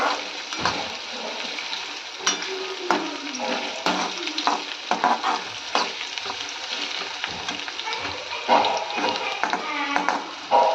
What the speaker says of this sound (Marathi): तो कांदा चांगला परतवून घ्यायचे एक पाच मिनटं लागतील कांदा परतायला